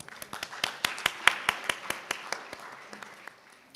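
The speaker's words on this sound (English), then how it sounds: "Please join me in welcoming him with a big round of applause." Audience applause at an environmental sustainability policy forum, a thin scattering of distinct claps from a small group, sharp and evenly spaced, fading slightly toward the end.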